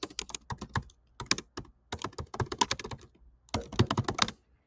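Someone typing on a computer keyboard in quick clustered bursts of key clicks separated by short pauses, close and clear with no talking.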